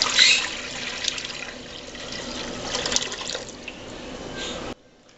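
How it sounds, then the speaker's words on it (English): About a quart of water splashes and runs steadily for several seconds, a continuous pouring rush that stops abruptly near the end. "Okay, so we're going to add 1 quart of water."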